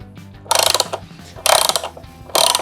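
Ratchet wrench with a 13 mm socket tightening a stud on an electric guitar, three loud, close bursts of rapid clicking separated by short pauses.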